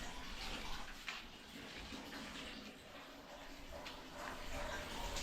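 Water runs strongly from a shower in the restroom of a beach campsite in Calatagan, Batangas, a continuous hissing rush heard close up that stays even throughout, with a voice faintly audible beneath it.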